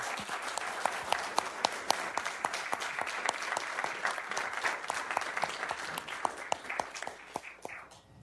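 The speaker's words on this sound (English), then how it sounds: "if we could all give a round of applause" The audience at a city council meeting applauds to honor a centennial mayor, a lively sustained clapping with sharp individual claps standing out from the crowd, which tapers off at the end.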